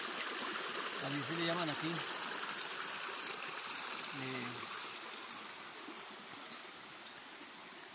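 Water flows steadily from the small Tenechaco spring, a constant close trickle and rush, with someone speaking briefly over it.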